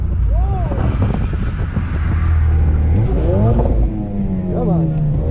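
A Ford Focus RS, all-wheel drive, slides around the Harris Hill Raceway track, its engine droning loud and close with rising and falling revs as someone talks over it.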